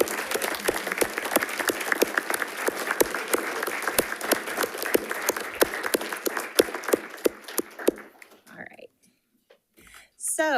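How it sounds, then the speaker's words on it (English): At a school district board meeting, the audience applauds with sharp, distinct individual claps layered into a steady crowd patter for about eight seconds, then it thins to silence before a voice begins speaking. "can you just stand up and we can all clap for you and honor you?"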